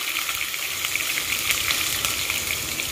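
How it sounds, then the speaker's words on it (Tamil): Shallots fry in hot oil with fennel seeds as a tempering for chow chow sambar, a steady close sizzle with faint crackles throughout, no voices. "இது கொஞ்சம் வெங்காயம் நல்லா வதங்கட்டும், பார்ப்போம்."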